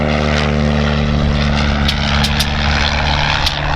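A Le Rhone rotary engine on a Fokker Dr.I replica at an airshow run-up roars loud and close in a steady buzzing drone, with sharp crackles scattered through it.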